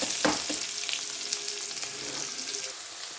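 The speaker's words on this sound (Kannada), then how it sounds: "ಆನಿಯನ್ ಒಂದು ಬ್ರೌನ್ ಕಲರ್ ಆಗೋ ತನಕ ಮಿಕ್ಸ್ ಮಾಡುವ ಗೈಸ್." Chopped onions sizzle and crackle loudly in hot oil while being stirred in a pan for egg curry, a steady dense frying hiss with occasional scraping stir strokes, close up and with no talking.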